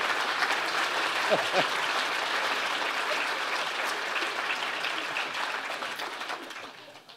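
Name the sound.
applause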